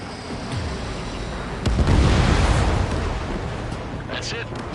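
A missile explosion downs an enemy bomber in the video game Ace Combat 7, a loud rumbling blast swelling up midway over a steady roar of jet noise, while radio voices talk.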